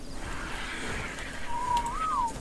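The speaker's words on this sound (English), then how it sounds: "I just whistled everything passive" A short player whistle in a creature-taming survival video game, a single rising-then-falling tone near the end over a low ambient background bed, fairly clear and close.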